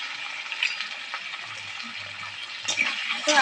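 Potatoes frying in a pan with turmeric and salt, a steady close sizzle with faint stirring scrapes and a few louder crackles, no voices.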